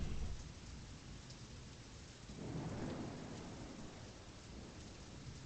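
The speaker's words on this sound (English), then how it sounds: "Ah, yes, thank you for the lightning." Steady rain falls in a horror video game while a low rumble of thunder swells midway and fades, all without talk.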